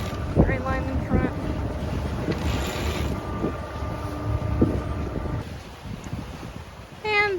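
A sailboat out on open water as its sail is raised, with steady wind buffeting the microphone, a few creaking tonal squeaks near the start and again at the end, and low rushing water throughout.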